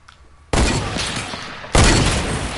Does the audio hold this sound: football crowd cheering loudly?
no